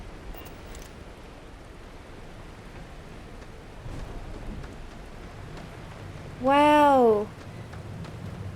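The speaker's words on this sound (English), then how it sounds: "It's raining." Steady rain hisses across a wet outdoor area in the video game Starfield, a continuous soft wash all the way through, broken once by a short spoken exclamation.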